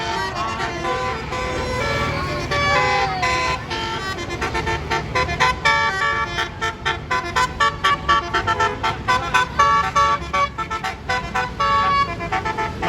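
A basuri horn on a bus at a highway toll gate blares a rhythmic, melodic tooting pattern of repeated pulses, loud and close over vehicle noise, with people talking and cheering around it.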